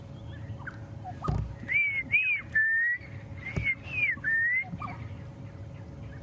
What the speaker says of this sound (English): That beautiful bird you can hear is a black-crowned chagra.